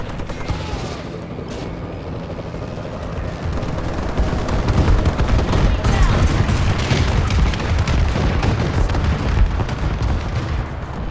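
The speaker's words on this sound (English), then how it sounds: "Friendly bombing run clearing the way." Call of Duty: Advanced Warfare bombing run, with loud rolling booms and dense bursts of gunfire that build after a brief lull into a sustained, heavy barrage filling the foreground.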